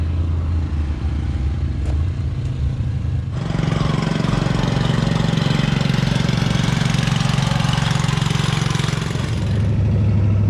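A 1949 or 1950 Mercury custom car, still under construction, runs at a car show, idling loudly up close before the engine revs up into a sustained roar and then settles back.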